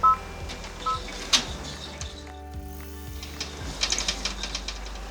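Embroidery machine sewing a tack-down placement stitch for a pot holder, giving a rapid steady mechanical stitching patter with tonal motor whine and occasional clicks, close and continuous.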